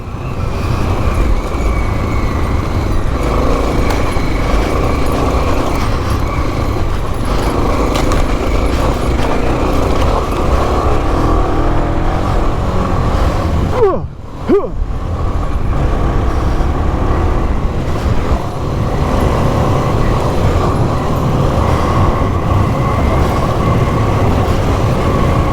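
A 1984 Honda XL600R dual sport motorcycle is ridden with a steady, loud engine and road roar throughout, which dips briefly midway before it resumes, with no talk heard.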